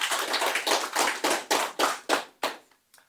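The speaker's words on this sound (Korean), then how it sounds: "우리 미국에 한번 박수를 보냅시다" A round of clapping at a church lecture: about eight sharp, rhythmic claps, fairly close and loud, that slow and fade out at the end. No voices.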